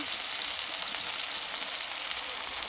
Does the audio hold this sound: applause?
no